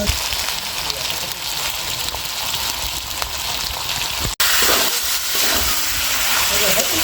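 Salted chicken pieces fry in a pan for a chicken and masoor dal curry, giving a steady, dense crackling sizzle. There is a brief dropout partway through, then the frying resumes just as loud.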